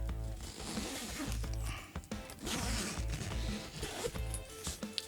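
A zipper pulls open a pocket on a Kentfaith camera bag during an unboxing, giving a close, continuous ratcheting rasp that runs for several seconds with small pauses and no talking over it.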